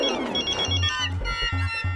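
A mobile phone rings with a short series of repeating electronic tones, clear and close, with no talking over them.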